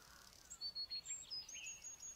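Small birds sing outdoors, a string of bright, high chirps and short whistled notes in quick bursts, fairly faint and somewhat distant over quiet background hiss, with no voices.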